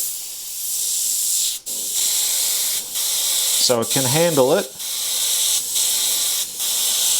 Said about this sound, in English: I just wanted to see how it would spray if I just put thicker paint in there